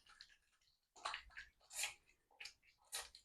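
Tap water runs in uneven splashing bursts while hands are washed with soap before a blood sugar test, fairly faint and close, with short pauses between the gushes.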